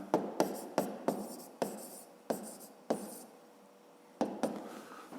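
A math solution is written out by hand on paper, a series of short scratchy strokes in uneven bursts with a brief pause before two more marks, close and quiet.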